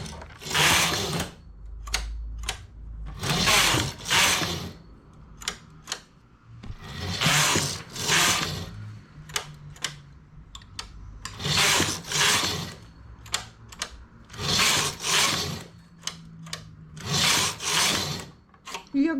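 A knitting machine works a vest in repeated bursts, its carriage rasping and clattering across the needle bed in regular back-and-forth passes a few seconds apart, loud and close.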